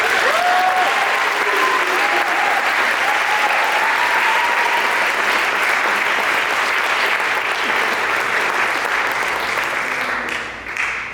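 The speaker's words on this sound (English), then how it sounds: "Here, a round of applause for Mr. Kamai Orange" A crowd applauds at a school's 2023 winter and spring sports awards ceremony, loud sustained clapping that holds steady throughout and fades slightly at the very end.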